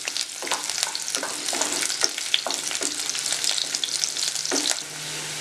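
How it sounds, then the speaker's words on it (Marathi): Chopped onion fries gently in a pan over low heat, a soft continuous sizzle broken by scraping stirs, close and moderately quiet with no talking. "मंद आचेवर मी कांदा भाजून घेते"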